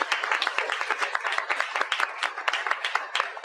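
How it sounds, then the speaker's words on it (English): An audience at a social media seminar applauds a speaker, a steady burst of many hands clapping with dense, even rhythm that carries on without a break. "Let's give Stephen a round of applause."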